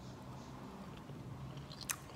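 Soft, close biting and chewing on a piece of pan-fried swai fish fillet with lemon and butter, with quiet steady mouth sounds and a single brief crisp crunch near the end.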